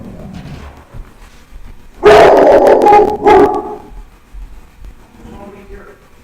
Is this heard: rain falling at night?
no